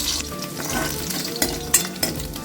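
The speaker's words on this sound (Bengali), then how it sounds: "কিশমিশও ভাজা হয়ে গেছে" Raisins, with a few cashews, fry in a pan with a close, loud crackling sizzle, punctuated by several sharp spatula scrapes and knocks against the pan.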